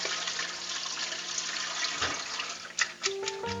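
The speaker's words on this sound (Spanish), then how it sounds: "es pasarlo un poquito por el chorro del agua fría" Cold tap water runs steadily over a piece of salt cod in a kitchen sink, a continuous close splashing stream with a few brief clinks and shifts near the end.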